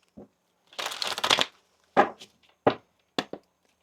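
Tarot cards are shuffled close by: one long papery riffle, then a few short sharp snaps and taps of the deck.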